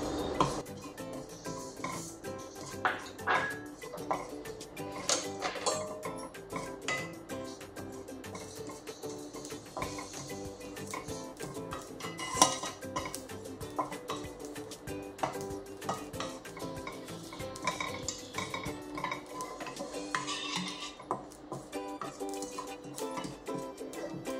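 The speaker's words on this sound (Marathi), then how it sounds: "आपण खसखस भाजू" Poppy seeds are dry-roasted in a pan and stirred continuously, producing a long stretch of scraping, rustling, and light metallic clinks of the spoon against the pan, close and fairly steady with no talking.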